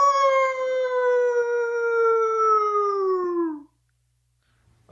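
A man imitates a hound dog howl in one long, loud, steady wail that slowly falls in pitch over more than three seconds, then cuts off into silence.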